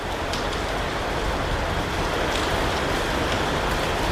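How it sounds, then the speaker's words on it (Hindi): Heavy rain pours down on farm fields in strong wind, a loud, steady hiss, dense and unbroken throughout. "बारिश भी बिल्कुल तेज़ है।"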